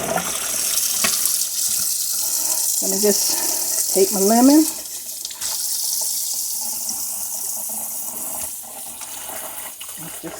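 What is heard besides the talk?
cold tap water rinsing raw pork ribs in sink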